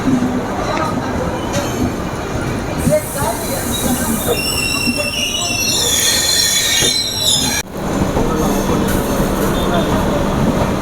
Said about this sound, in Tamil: பெங்களூர்லேருந்து கிளம்பியாச்சுங்க நம்மளோட ட்ரெயின்.